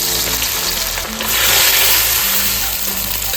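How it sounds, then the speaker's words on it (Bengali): Vegetables sizzle loudly in hot oil in a pan, a steady crackling fry with a surge as they are stirred and tossed, close up and without voices. "তেল গরম হয়ে গেছে, সবজিগুলো এবার দিয়ে দেব।"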